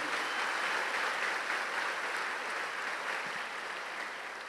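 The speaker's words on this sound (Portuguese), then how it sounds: "Vamos aplaudir o Senhor." A church congregation applauds during a worship service, a dense, steady wash of many hands clapping that holds evenly and fades slightly toward the end, with no talking.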